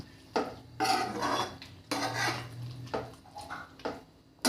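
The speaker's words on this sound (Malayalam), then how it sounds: "ഇത് നന്നായി ഒന്നും കൂടി മിക്സാക്കി കൊടുക്കണം." Spoon stirring pepper chicken gravy with coriander leaves in a pan, a series of irregular scraping and clinking strokes against the metal, close and fairly loud, with brief pauses between strokes.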